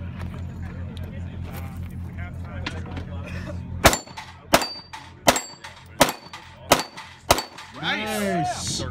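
Seven sharp pistol shots in an evenly spaced string at a Kalashnikov shooting event, each ringing off steel targets, with a low engine hum and voices in the background.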